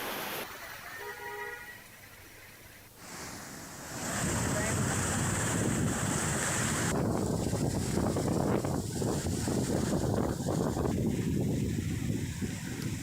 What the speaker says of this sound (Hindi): लठिया नाला पूरी तेजी से बह रहा है